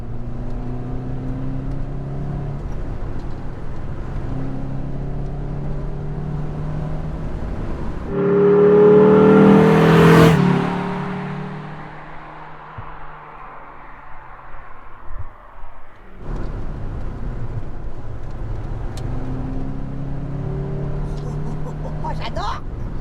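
A Renault R19 16S engine with an open air filter revs up in a loud burst with rising induction roar, then settles back toward idle, amid steady road and engine noise while people talk in French.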